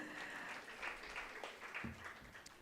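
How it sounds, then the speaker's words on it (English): Applause from a conference audience at an MSME business event, a steady wash of clapping for a couple of seconds, fairly quiet and distant. "Can we have a big round of applause?"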